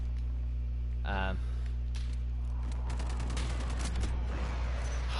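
Gunfire in Call of Duty: Modern Warfare during sniper play, a burst of shots over a steady low electrical hum, with a brief vocal sound early on.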